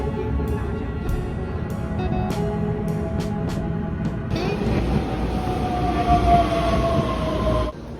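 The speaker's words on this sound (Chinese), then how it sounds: "火车特有的咔嗒声响，像一只温和巨兽井然有序的交替喘息" Taiwan Railway Tze-Chiang express train running along the rails, a steady rumbling clatter with periodic clacks from the wheels, growing louder and brighter about halfway through as a high whine joins in, with no speech.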